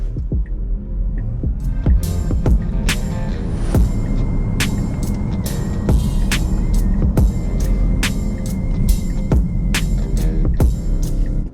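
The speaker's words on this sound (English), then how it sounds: "we're gonna run our 0 to 60 test" A 2025 Tesla Model Y Launch Edition on 18-inch forged wheels with Michelin tires accelerates hard from 0 to 60: a steady low hum and road rumble with repeated sharp thumps and clicks, heard close from inside.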